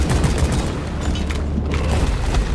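Dense gunfire in the video game Deep Rock Galactic as players shoot a boss egg, with rapid overlapping shots and booms forming a continuous, loud barrage.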